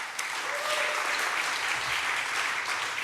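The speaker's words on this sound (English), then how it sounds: "Give yourselves a round of applause." Crowd at an outdoor election reform rally applauds in a steady, even wash of clapping, moderately distant, with a few faint shouts.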